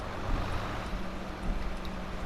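A tractor engine in the farming game Farming Simulator 22, a steady low rumbling drone that runs unbroken and fairly loud, with no talking over it.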